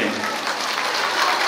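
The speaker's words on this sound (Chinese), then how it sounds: "可爱，掌声鼓励。" Children and parents at a kindergarten graduation ceremony clap together, a short, dense, loud burst of applause that stays even from start to finish.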